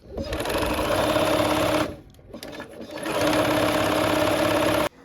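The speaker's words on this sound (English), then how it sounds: "I am actually going to sew from the opposite, the square side, because the piece side is actually just a slight bit bigger than the other side" A sewing machine stitches quilt blocks for a Christmas quilt, running in steady, loud continuous bursts, pausing briefly near the middle before resuming and then stopping abruptly at the end.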